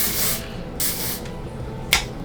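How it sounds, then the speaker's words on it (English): Hairspray hisses onto a curled blonde lace frontal wig in short bursts: a longer spray, a second burst, then a quick sharp puff, all close, over a soft background hum. "I'm starting to accept that hairspray after you curl your hair is your friend."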